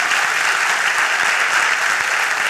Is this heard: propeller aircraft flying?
no